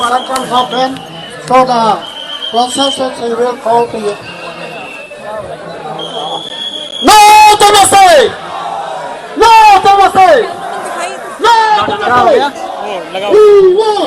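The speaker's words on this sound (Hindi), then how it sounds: "भीड़ इकट्ठा हो चुकी है" Indian Youth Congress protesters gather as a crowd, with loud shouting and chanting voices rising in bursts over a steady murmur of chatter outdoors.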